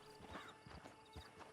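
A horse's hooves clip-clop at a steady walking pace in Red Dead Redemption 2, soft and fairly close with a few uneven thuds and no talk.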